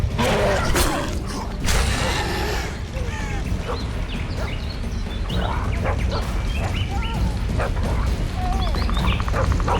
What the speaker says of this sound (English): That's Grindley's dog.